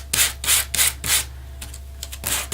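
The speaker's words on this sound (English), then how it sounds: "took my sanding block, and just sanded over top" Sanding block scraped over cardstock laid on a metal die, five quick rhythmic back-and-forth strokes followed by lighter scattered rubs, close and crisp with no one speaking.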